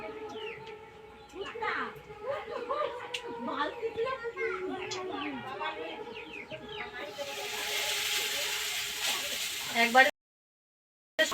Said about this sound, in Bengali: তেলটাও খুব সুন্দর গরম হয়ে গেছে। এখন চাউমিনগুলো দিয়ে দেবো।